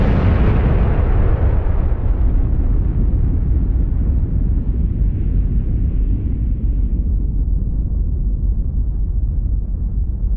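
A British atomic bomb test at Montebello heard from archival film: a sustained deep roaring rumble that slowly loses its upper hiss and keeps booming loudly for seconds, with no talk.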